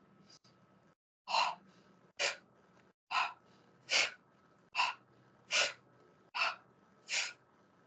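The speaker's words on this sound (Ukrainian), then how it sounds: "Ми робимо теплий видих і потім одразу холодний." Paired breathing-exercise exhalations, a warm breath followed at once by a cold one, come as a series of eight short, sharp puffs at a regular pace, close and alone with no talking.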